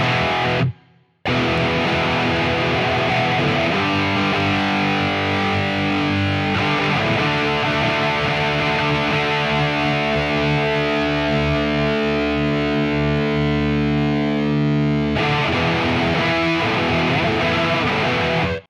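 Heavily distorted electric guitar on a Quad Cortex recreating a song's tone rings out in sustained chords, echoing delay repeats trailing behind, after a brief silent gap near the start.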